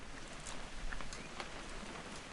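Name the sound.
rain falling, from the video game What Remains of Edith Finch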